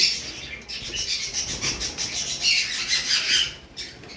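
Several pet birds, including albino pairs, squawk and chatter harshly in overlapping bursts, close by and fairly loud, with a brief flutter of wings.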